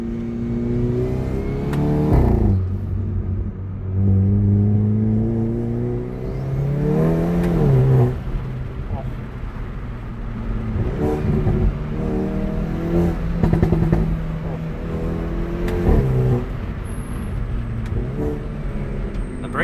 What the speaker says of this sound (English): we'll actually go back and try the launch control